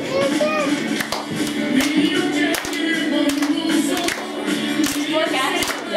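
Children clap their hands in a group game at a St. Nicholas celebration, with sharp claps in uneven bursts over lively children's voices and talking.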